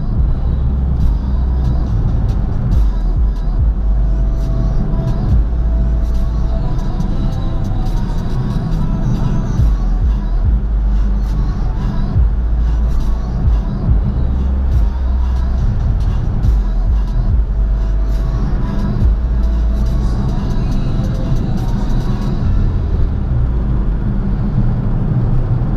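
A car cruising south on a highway in worsening winter weather with poor visibility, giving a steady loud road rumble and tyre roar with faint ticking throughout, close and continuous.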